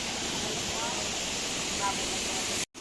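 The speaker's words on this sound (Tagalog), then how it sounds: "Hey, the Bagalod Falls finally arrived again." Steady broadband roar of Bagalod Falls, a waterfall in San Andres, Romblon, filling the whole stretch at an even level, with a few faint voices under it and an abrupt cutout near the end.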